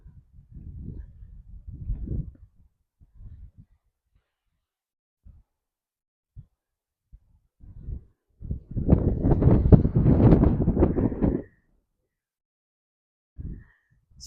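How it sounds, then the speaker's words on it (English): Wind gusting on a snowy New Hampshire mountain outlook, heard as scattered low rumbles of buffeting against the microphone, building to a long, loud blast in the middle before fading, with faint intermittent noise around it. "It's pretty windy here today."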